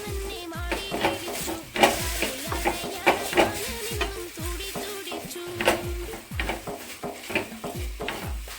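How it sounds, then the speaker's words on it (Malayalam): Beef with coriander powder sautéed in a pan: a rhythmic series of close spatula scrapes and knocks against the metal over an ongoing sizzle, repeated every half second or so. "എന്നിട്ട് നന്നായിട്ട് വഴറ്റി കൊടുക്കുക."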